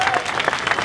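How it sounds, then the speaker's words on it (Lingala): A brief burst of crowd applause for the head of state, dense clapping from many hands heard close and steady for under a second. "acclamez pour chef d'État"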